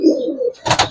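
Giribaz pigeon in a loft giving a low, soft coo close by, followed by a brief burst of wing flapping or rustling.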